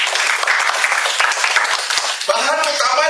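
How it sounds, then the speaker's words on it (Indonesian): A church congregation breaks into sustained, dense applause, loud and close, keeping an even wash of clapping for about two seconds before a voice cuts in over the fading claps. "Beri tepuk tangan buat Tuhan."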